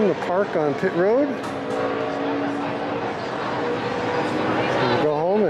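NASCAR race cars roll onto pit road at the Daytona road course, a steady engine drone under crowd noise with nearby people talking throughout.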